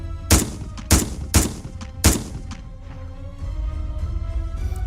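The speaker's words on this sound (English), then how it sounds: "repeated loud bangs are much more likely to be gunfire." Four loud, sharp gunshots in quick succession ring out close by with echoing tails, followed by a lingering low rumble of background noise.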